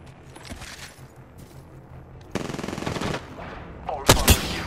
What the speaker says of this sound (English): Shots fired at me. Shooting at me.